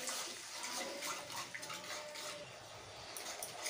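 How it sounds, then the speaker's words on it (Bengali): Water poured little by little into a cabbage Manchurian gravy in a pan: a soft, steady splashing and trickle of liquid throughout, close by and fairly quiet. "আমি দিয়ে দিচ্ছি একটু জল অল্প করে"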